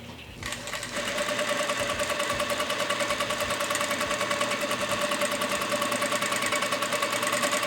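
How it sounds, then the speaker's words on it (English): Vevor industrial sewing machine stitching a double-layered ribbon tutu, starting up and then running at a fast, steady, loud close-up chatter of rapid needle strokes with no voices. "sewing this on here is like smooth and easy."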